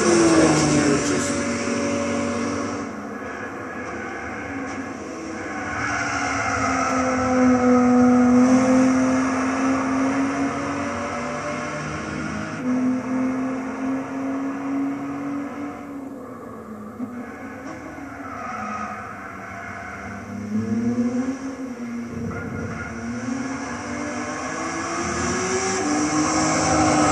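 The Toyota FT-1 race car from Gran Turismo 6 laps Silverstone. Its engine drones continuously, rising and falling in pitch as it accelerates and shifts gears through corners. The tone is loud and sustained, with no voices over it.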